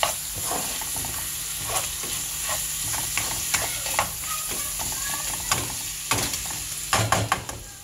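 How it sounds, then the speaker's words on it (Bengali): Food frying in a pan while being turned over and stirred, a steady close sizzle broken by repeated scraping and clattering stir strokes, with a few louder knocks near the end. "একটু উলট পালট করে দিই, তার মানে লাড়াচাড়া করে দিতেছি"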